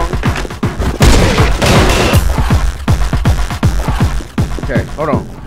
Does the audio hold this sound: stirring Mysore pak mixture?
no